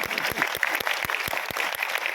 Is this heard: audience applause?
yes